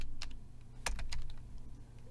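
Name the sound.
typing on a computer keyboard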